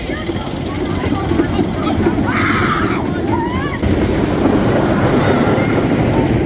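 Back-row ride on the Falcon roller coaster at Farup Sommerland: loud, constant rumble of the train on the track with heavy wind rush buffeting the microphone throughout.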